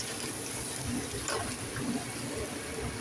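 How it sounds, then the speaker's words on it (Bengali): Water poured into a cooking pot on the stove, a steady close splashing and trickling that runs for a few seconds under a constant background hiss. "এখানে এইবার একটু পানি দিয়ে দিলাম"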